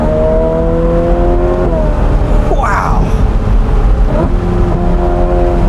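A Ferrari F8 Tributo's twin-turbo engine drones loudly and close, then gives a sharp rev that swells and falls back, while a person briefly exclaims over it.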